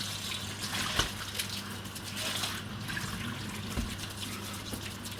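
Water rinsing raw wool fleece in the washing system of a fibre mill, a continuous watery wash and trickle with occasional drips and knocks, fairly faint against steady machine hum.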